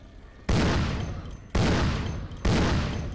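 Three loud, booming hand cannon shots in the Vampire: The Masquerade - Bloodlines video game, each a sharp blast followed by a long rumbling decay, spaced about a second apart with no talk.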